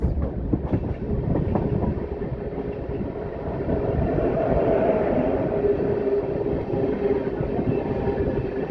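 Parshuram Express passenger train passing at a railway crossing, a continuous loud rumble with rhythmic clickety-clack of wheels over rail joints throughout, no voices.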